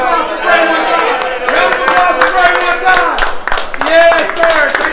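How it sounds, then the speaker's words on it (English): Crowd clapping at a movie premiere night, loud and close, with scattered claps under lively chatter and a voice talking over it. "Can we get a round of applause straight one time?"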